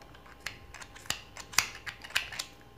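Scissors snipping at yarn on the crocheted head of an amigurumi doll, several crisp close cuts at uneven intervals with soft rubbing between, no talking.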